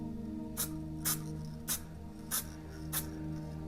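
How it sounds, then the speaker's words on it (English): Metal flake spray paint hisses onto an RC car shell in five short, evenly spaced bursts over a low steady background hum. "We're going to use this metal flake paint to just lightly coat it off."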